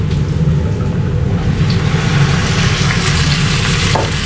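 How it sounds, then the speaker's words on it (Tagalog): Pork strips for bistek sautéing in a pan with garlic and onion, giving a steady, close sizzle with a low rumbling undertone and faint stirring scrapes throughout, no voices. "Pagkatapos naman is igigisa natin yung meat natin."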